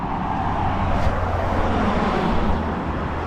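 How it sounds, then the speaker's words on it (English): Steady road traffic rumbles along the Shibden Vale trail near Shibden Hall, a broad continuous wash of car noise with passing vehicles swelling slightly, fairly loud and with no voices. "apologies for the road noise."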